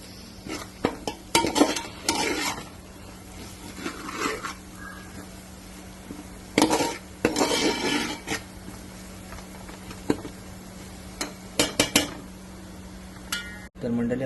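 Onion and spice masala is stirred in a pot: intermittent scraping and clinking bursts of a spoon against metal over a faint low hum, with brief soft sizzling between strokes.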